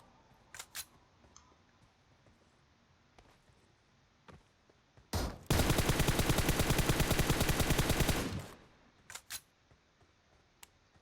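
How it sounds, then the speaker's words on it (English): Gunfire in the mobile game PUBG Mobile Metro Royale: a few scattered single shots, then a loud sustained automatic burst of about three seconds, followed by more isolated shots, with no talk. "Going to send a single shot because I don't want to waste all of my bullets"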